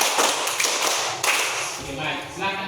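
Classroom hand clapping, a burst of quick claps in a counted pattern, with a chatter of students' voices and shuffling mixed underneath.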